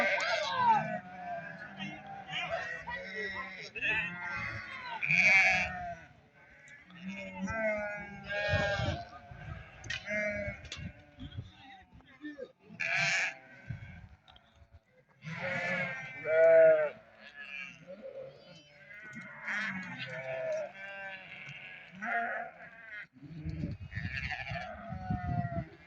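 Lambs and sheep bleat again and again at a sheep market in Barda, many calls overlapping near and far. People talk among the animals throughout.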